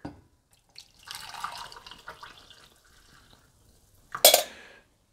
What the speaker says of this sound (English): pour in your coffee